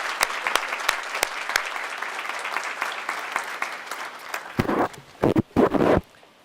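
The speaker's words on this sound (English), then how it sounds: "How about a round of applause?" Audience applause at a library's Veterans Day commemoration, steady clapping with a few sharp close claps early on that breaks into loud bursts and fades at the end.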